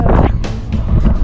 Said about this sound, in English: Already the wind's blowing a lot.